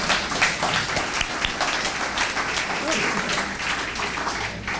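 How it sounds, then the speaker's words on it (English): Audience applause at an annual meeting award ceremony, steady moderate clapping from a crowd filling the room throughout. "thank you for all your applause and good wishes"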